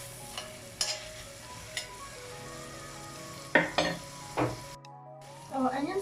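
Chopped onions sizzle in a pot for a Durban-style prawn curry, with a soft steady frying hiss under several sharp scrapes and knocks of a spoon stirring against the pot, and a brief clatter near the end.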